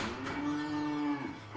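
A Bally Black Rose pinball machine plays its hidden cow-moo sound, a single drawn-out electronic moo with a steady tone that fades at the end.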